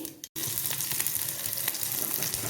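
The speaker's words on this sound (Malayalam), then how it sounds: "കടുക് പൊട്ടി വരുന്നുണ്ട് ഉള്ളി" Mustard seeds crackle and splutter in hot oil for a vegetable stew, a steady close sizzle with scattered sharp pops after a brief silent gap near the start.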